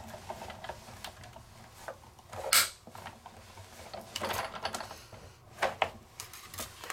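A die cutting machine runs a sheet of card through to trim it to A2 size, giving a steady mechanical whir with quiet ticks and clicks, broken by a few sharper clacks and thumps as the plates move.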